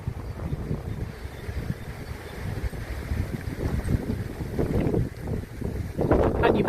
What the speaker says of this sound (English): And you may be able to hear the wind.